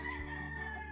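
A Sweater gamefowl broodcock on a game farm gives a short, faint, harmonic crow, less than a second long, against a low steady background hum.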